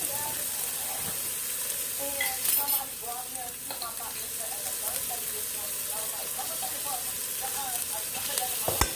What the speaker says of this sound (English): Just let your onions cook for like